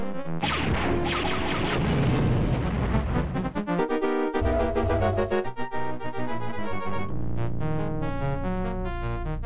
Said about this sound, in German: die Fässer hier können explodieren